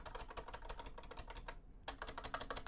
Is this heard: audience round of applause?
no